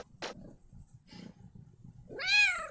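Soft clicks and rustling lead into one loud, close meow from a cat named Bread near the end, rising then trailing off.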